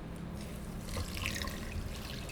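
One cup of water pours into a pan of vegan longganisa mixture made with Quaker oats, a soft, close, continuous splashing trickle lasting a couple of seconds.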